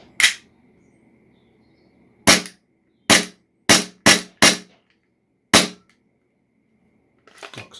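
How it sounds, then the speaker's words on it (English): An HFC HG-185 gas blowback airsoft pistol fires six sharp, loud single shots at uneven intervals with silence between, each a crisp snap of the sliding action, close by and without talk. "we'll quickly test the blowback action on camera here for you so you can see it"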